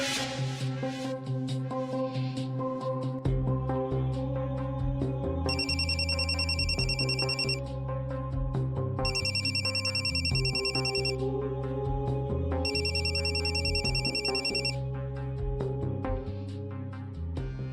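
A telephone rings with a repeated electronic ringtone in three evenly spaced bursts, set against a soft melodic music bed in a domestic TV-serial scene, with no speech.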